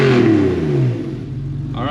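Porsche 964 with a six-speed swap accelerating hard from inside the car, a loud close engine roar with rising pitch that eases off after about a second.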